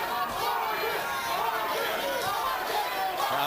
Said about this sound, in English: Crowd chanting Vargas, Vargas, Vargas.